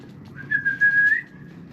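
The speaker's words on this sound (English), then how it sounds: "So that's that whistle recall working real well." One sustained, high-pitched whistle blast of about a second, clear over a faint outdoor background, like a dog recall whistle.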